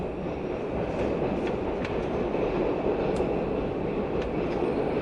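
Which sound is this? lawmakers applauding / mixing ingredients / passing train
passing train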